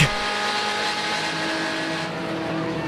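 Seat touring race cars battle at Slovakiaring in a 2013 Supercar Challenge round, their engines roaring steadily and close by with a dense, buzzing drone and no talk over it.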